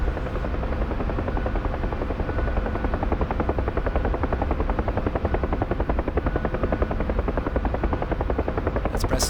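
A UH-1 Huey helicopter hovers in a flight simulator, its rotor beating in a loud, steady, rapid chop with a constant engine whine underneath and no talking.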